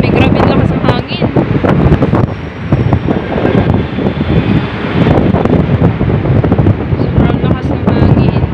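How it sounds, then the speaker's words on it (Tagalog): Strong wind buffets the microphone in loud, continuous gusts with a roaring rumble throughout at an urban residence beach club, sounding close and harsh. "Grabe ang lakas ng hangin."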